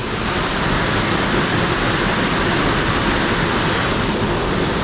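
Water rushes out beneath open lock gates at Tarafeni Dam in a loud, unbroken roar of broadband noise that stays constant throughout, with no voices audible.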